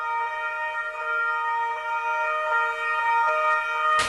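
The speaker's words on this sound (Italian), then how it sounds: "Sirene spiegate come un urlo di dolore a rompere un silenzio irreale" Emergency vehicle sirens wail in a steady, sustained tone at a memorial in Trieste for two murdered police officers, loud and continuous with no voices over them.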